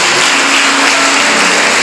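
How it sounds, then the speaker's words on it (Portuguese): A church congregation claps for Jesus during a sermon, a dense, loud, unbroken wash of applause filling the room. "Vamos aplaudir o Senhor Jesus mais uma vez."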